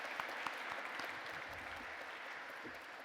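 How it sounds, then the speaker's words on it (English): A general round of applause from the audience at the close of a live-streamed stakeholder gathering, a faint, distant and steady patter of many hands clapping with no talk over it. "I want a general applause for all those who put many time into these actions"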